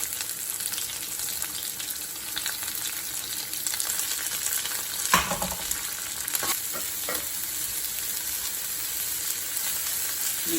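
Onion and green chilli fry in hot oil for a jackfruit dish, giving a steady close sizzle with occasional stirring scrapes and clinks throughout.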